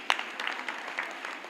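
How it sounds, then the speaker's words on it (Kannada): Clapping at a cooperative society's annual general meeting, a short scattered round of applause from a seated audience, fairly faint and distant in a large hall. "ನಿಮಗೆ ಒಂದು ಚಪ್ಪಾಳೆ."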